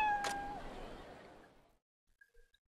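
A cat in the game Like a Dragon Ishin gives a single clear meow that fades into a reverberant tail, followed by a couple of faint small sounds.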